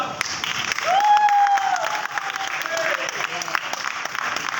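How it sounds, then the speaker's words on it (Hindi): Applause from an audience at a live stage show, a continuous wash of clapping with a rising vocal tone and a voice heard over it partway through. "तालियां बजती रहनी चाहिए भैया"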